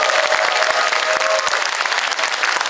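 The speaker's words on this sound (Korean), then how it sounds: "박수 한번 주시죠" Applause in the large conference hall of the National Assembly Members' Office Building, a dense, loud, continuous wash of many hands clapping close by, steady throughout with no voices.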